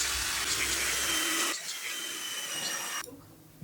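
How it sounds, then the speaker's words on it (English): A power drill whines in steady bursts as it pre-drills holes and drives long screws into a wooden workstation frame, two sustained runs stopping abruptly, close and fairly loud with no talking. "Pre-drill it and then screw them together."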